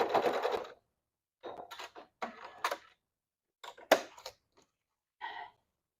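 A sewing machine stitching a bag seam runs in short separate bursts of rapid mechanical clatter, a long run first then several brief stops and starts, close and clear.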